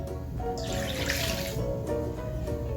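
Water runs steadily from a tap into a container of cake mix for a few seconds, a continuous hissing splash at moderate volume.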